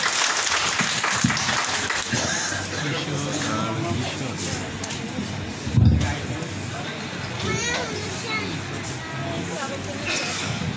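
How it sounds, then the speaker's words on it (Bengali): An audience applauds at an indoor gathering, a rolling wash of clapping with one louder burst midway, while voices carry on underneath. "স্যারের জন্য করতালি প্লিজ।"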